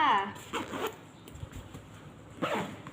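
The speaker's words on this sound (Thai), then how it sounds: "ก็ปิดรูดซิปค่ะ" A school bag's zipper is pulled closed in two quick, close raspy strokes, one at the start and one near the end, with a voice talking softly in between.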